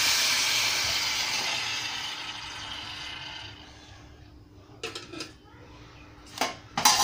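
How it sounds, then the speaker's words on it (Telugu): Tomato pieces for homemade tomato pickle dropped into a hot pan on the stove, starting with a loud hiss that gradually fades, followed by a few sharp utensil clicks near the end. "ఇప్పుడు టమాటాలు వేస్తున్నానండి."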